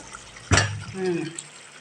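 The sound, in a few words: pouring water into a pot of curry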